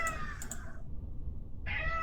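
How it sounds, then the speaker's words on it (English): A cat meows twice in quick succession, fairly close and clear, with a short pause between the two calls. Low background hum sits underneath and no one speaks. "oh, kitty!"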